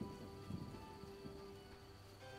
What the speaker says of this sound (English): It is rainy.